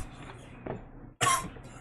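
A sick person coughs once sharply near the mic, a loud burst after a quieter throat sound, with no talking.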